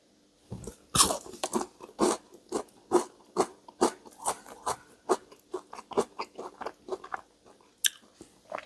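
Biting and crunching into a Lion chocolate bar, heard up close as a run of about fifteen sharp, crisp crunches in a steady chewing rhythm, with no talking.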